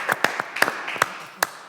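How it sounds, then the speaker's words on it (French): A handful of scattered, faint hand claps from a small group in a French football quiz show, irregular and brief rather than a full round of applause. "On va déjà applaudir Jeune Bob"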